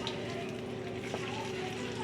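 A gram flour mixture roasts in ghee in a hot kadai for sweet corn laddoos, giving a soft, continuous sizzle and crackle with faint stirring scrapes.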